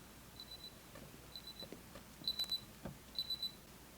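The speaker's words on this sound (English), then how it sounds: "The timer went off, yo." A timer alarm from Breaking Bad beeps faintly in short paired bursts, four groups spaced about a second apart, over quiet room tone and a few soft knocks.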